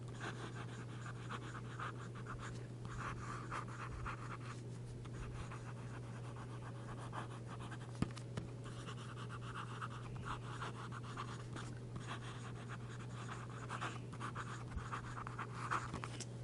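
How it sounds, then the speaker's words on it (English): A Lamy fountain pen nib glides over Clairefontaine paper, producing a faint, continuous soft scratching with small rhythmic strokes over a low steady hum. "This Lamy nib just sings across this paper."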